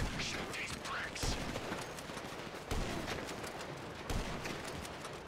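Gunfire from Grand Theft Auto V during a shootout, several loud broadband gun blasts at irregular intervals over steady game noise, with voices talking.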